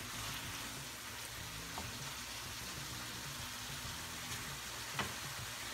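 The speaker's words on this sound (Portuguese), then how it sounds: "Vou deixar continuar fritando." Beef liver sizzles steadily in a hot pan, a continuous crackling hiss with faint pops, heard close and without any voices.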